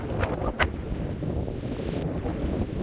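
Steady wind buffets the microphone with a low, rushing roar that holds at a constant level throughout, with no voices.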